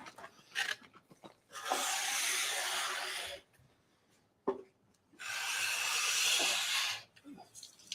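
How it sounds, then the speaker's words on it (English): Two long, steady bursts of scraping across a salvaged wooden butcher block tabletop, each lasting a couple of seconds, with a few short knocks and quiet gaps between them. "Oh, wait, I'm not done scraping."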